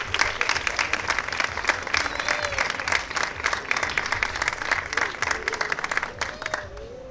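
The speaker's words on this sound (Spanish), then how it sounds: "Le damos un aplauso, ¿no?" A crowd claps for children carrying ceremonial staffs at a religious offering to Our Lady of the Sea in Isla Cristina, brisk close applause with distinct individual claps that continues steadily, with faint voices underneath.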